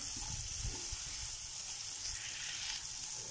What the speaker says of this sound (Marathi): गाजर, टोमॅटो, तुपामध्ये छान परतून घ्यायचं आहे.